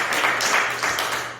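A church congregation breaks into applause for the Lord, a dense, steady wash of many hands clapping at once, loud and close for the whole stretch.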